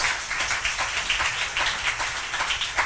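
A church congregation claps and applauds together in a steady, dense patter of hands that fills the space at moderate loudness, with no speech over it.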